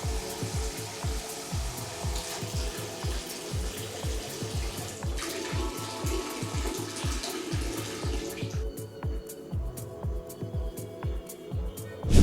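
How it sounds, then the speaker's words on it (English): Water runs steadily from a newly installed Delta Leland 9178 kitchen faucet into a sink, a continuous close splashing rush that changes tone partway through. "Now finish up by running water and checking for leaks"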